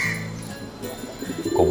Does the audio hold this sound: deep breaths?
no